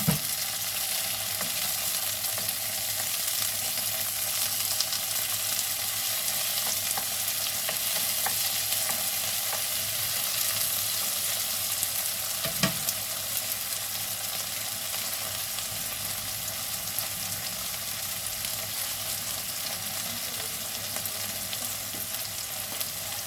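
Tomatoes sauté in a hot pan with a constant, fairly soft sizzle and occasional stirring scrapes, one sharper knock near the middle, and no talking.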